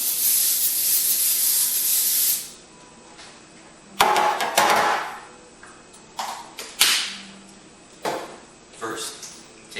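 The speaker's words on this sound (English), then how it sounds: "spray your baking pan with non-stick spray." Non-stick cooking spray hisses onto a baking pan in one long, loud burst, followed by scattered bangs, rattles and short bursts of kitchen handling noise.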